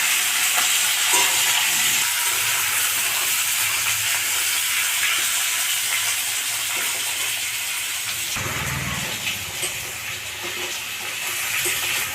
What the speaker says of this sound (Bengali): এবার আমি আলুগুলো দিয়ে দিচ্ছি দিয়ে একটু ভাজবো